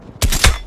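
Two quick loud gunshots from Call of Duty: Black Ops Cold War, a sharp crack followed closely by a second, each with a brief booming tail.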